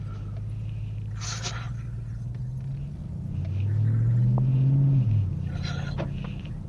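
A Porsche wagon in sport drive mode gives a low exhaust rumble from inside the cabin, holding steady and then swelling louder midway before settling back, with brief faint noises on top.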